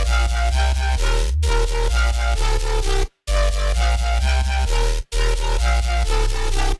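A thick, heavy electronic bass made of five layered synth basses in an EDM track pulses in a steady repeating pattern with bright layered tones on top, loud and dense, cutting out briefly twice.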